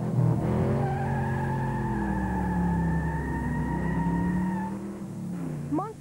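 Revving monster truck engines from the Monster Truck Madness 64 video game roar in a loud, sustained drone that rises and shifts in pitch, with a brief squeal of tires near the end.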